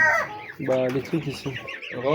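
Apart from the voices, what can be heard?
chickens on a poultry farm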